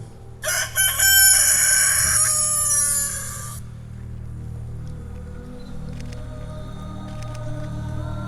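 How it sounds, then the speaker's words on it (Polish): A rooster crows loudly once during an outdoor Passion play, a long harmonic cock-a-doodle-doo lasting a few seconds, followed by a low background rumble and faint ambient noise. "I natychmiast, gdy on jeszcze mówił, zapiał kogut."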